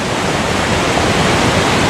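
High, fast water rushes through a tiny creek in a steady, loud, broadband roar, close by and unbroken, with no voices.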